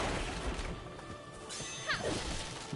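Objects being smashed in the Valkyrie Elysium video game: a dense, loud crash and shattering burst with whooshing swipes, continuous game noise filling the whole moment.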